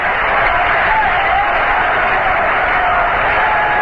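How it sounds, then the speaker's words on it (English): Big baseball stadium crowd at the 1973 NLCS game between the Cincinnati Reds and New York Mets, a steady, loud murmur of thousands of voices stirring in the stands without any distinct cheer. "Big crowd stirring around."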